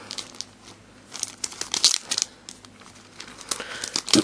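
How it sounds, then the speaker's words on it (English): Plastic wrap crinkling as a Nexus 7 tablet is unwrapped one-handed, close irregular crackles and rustling bursts with short quiet gaps, no voices. "let me see if I can get out of the plastic one-handed"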